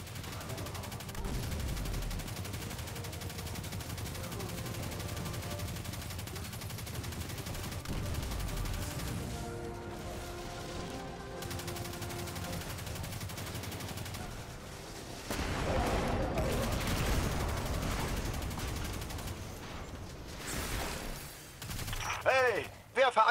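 Gunfire and explosions from the video game Destiny 2 (Forsaken), a dense run of shots and blasts with a heavier burst of detonations late in the clip, heard over a steady game soundtrack.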